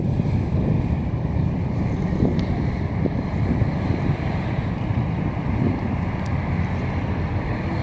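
A large cargo ship passes through the river at the port of Montreal, heard as a steady low rumble of engine and moving water under heavy wind noise on the microphone, constant throughout, with no talk.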